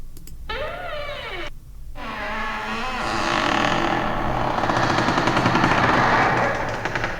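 A voice-changer effect meant to imitate a squeaky door produces warbling, swooping tones that turn into a loud, harsh rattling buzz, close and alone with no talk.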